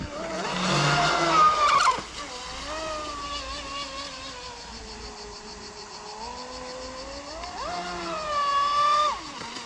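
A motorboat engine revs and whines while the boat spins in tight turns on the water, its pitch climbing and falling repeatedly and surging loudly again near the end, with no voices.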